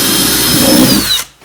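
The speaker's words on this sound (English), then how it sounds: "So you go about 1 inch up from your plastic and you're going to drill" A power drill bores a hole through a plastic planter pot, a loud close whine with grinding that runs steadily, then stops abruptly near the end.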